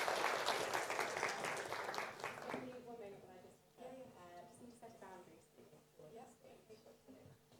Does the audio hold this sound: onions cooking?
no